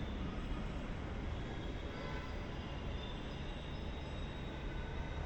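A metro train runs on the track below with a steady, broad rumble and rolling rail noise, while planes pass overhead and road traffic moves beneath, all blending into one continuous wash of city transport sound with no pauses.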